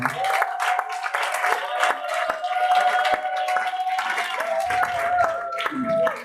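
A church congregation at an evening worship service applauds in acclamation of Jesus, producing a dense, sustained wash of clapping with scattered cheers. A steady sung or held tone runs beneath it throughout.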